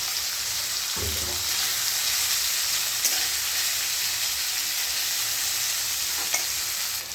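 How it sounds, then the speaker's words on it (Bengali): Bitter gourd fries in a pan, a steady close sizzle running throughout, with a few scraping stirs of a spatula breaking in near the start and middle. "উচ্ছে ভাজা হয়ে গেছে এবার নামিয়ে ফেলবো"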